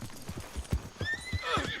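Horse hooves clip-clop in Red Dead Redemption (RedM), a quick run of close, uneven footfalls ending in a loud neigh.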